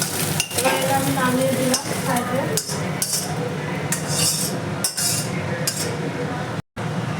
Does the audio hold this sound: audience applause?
no